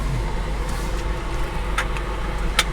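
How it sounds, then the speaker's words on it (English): A 2007 BMW X5 underway on a test drive, steady low engine and road hum heard from inside the cabin, with a few faint clicks. "Let's take it for a test drive."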